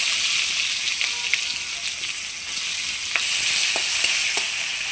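Chopped onions fry in oil over whole spices for a catfish curry, a continuous close sizzle with scattered crackles that grows louder toward the end, and no one speaks.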